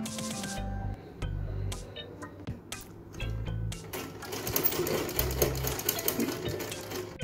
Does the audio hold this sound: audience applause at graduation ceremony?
no